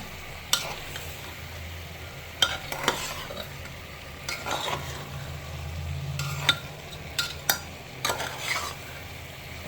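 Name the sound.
rice, dal and vegetables being stir-fried together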